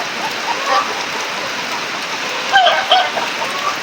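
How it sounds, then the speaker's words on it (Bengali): Steady rain hisses over a poultry farm housing large parent-stock chickens during a cold spell, an even broadband wash throughout with a few faint clucks and bird calls rising briefly near the end. "এখনই মাত্র বৃষ্টি শুরু হয়েছে"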